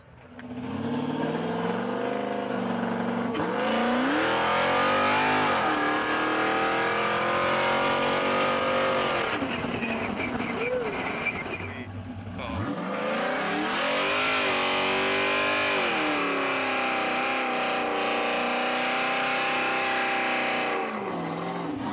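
Loud LSX V8 in a Willys Jeep revving hard, the engine climbing and falling in pitch through long sweeping pulls, a brief dip near the middle, then roaring back up, all close and with no talk.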